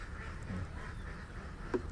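Ducks in a pen beside village rice fields give faint, brief quacks at a distance, with one sharper call near the end over quiet background noise.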